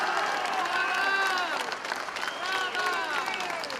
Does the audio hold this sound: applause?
yes